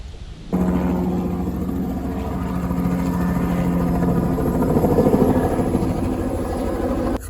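A helicopter flies near a fire, its engine and rotor cutting in abruptly and holding a loud, steady whine and rapid chop before dropping off sharply at the end.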